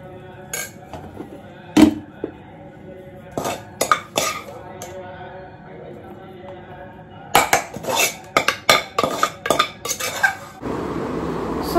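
Cutlery clinks and scrapes on a plate during a home dinner of paneer pulao, irregular bursts of sharp metallic taps and clatter, busier toward the end, close and moderately loud.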